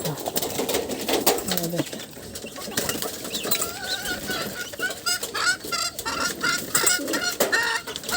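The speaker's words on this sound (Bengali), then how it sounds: "দেখেন সব কবুতর চলে আসছে" A crowd of birds gathers close by to be fed, with pigeons cooing, wings fluttering in bursts and hens clucking throughout.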